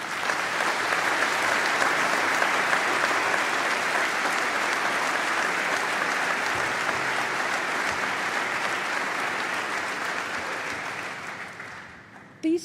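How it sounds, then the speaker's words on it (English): Sustained applause from a university graduation ceremony audience for architecture and built environment graduates, a dense, even wash of many hands clapping at steady volume before tapering off near the end. "So please join me in a very well-deserved round of applause."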